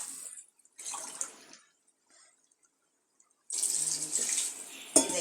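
Water poured into a pot for cooking rice, splashing in two bursts separated by a quiet pause, close and clear, with a light clunk near the end.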